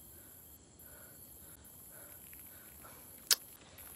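Faint, high cricket chirps pulse in a steady rhythm against quiet night ambience at a tennis court, with one brief sharp click near the end.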